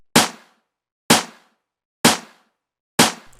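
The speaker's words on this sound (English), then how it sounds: "together with the main snare, they all sound like this" Layered snare drums in an FL Studio beat remaking a song hit four times at an even, slow pace, each a sharp, loud, thick crack with a short decay and silence between.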